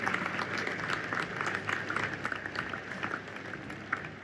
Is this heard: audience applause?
yes